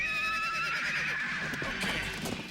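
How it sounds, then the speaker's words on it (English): Cartoon horses neigh and whinny in a long, shrill, wavering call that fills the clip, loud and close, with some clopping and background noise underneath. "Saddle up a pair of fast horses."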